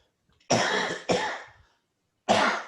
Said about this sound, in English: Pardon me, I have a cough here.